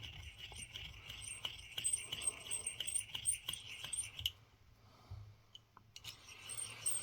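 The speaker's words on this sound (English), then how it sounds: "This is Christy Burr, my deburring tool. You just want to clean up that inside edge" A handheld deburring tool scrapes around the inside edge of a half penny coin ring, making close, quiet rasping and rubbing strokes with small metallic ticks and a brief pause.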